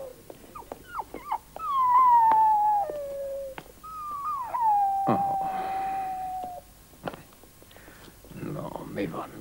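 A dog howls in two long, drawn-out wails that slide downward, close and fairly loud, with a person speaking in short phrases around them.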